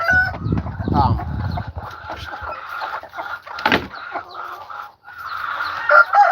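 A black chicken clucks and calls close to the microphone in bursts on a farm in Aklan, with people talking nearby.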